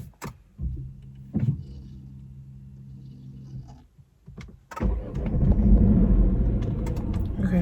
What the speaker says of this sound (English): Okay, so the car's on.